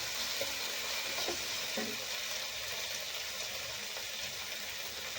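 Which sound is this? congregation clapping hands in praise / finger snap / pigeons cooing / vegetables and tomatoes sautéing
vegetables and tomatoes sautéing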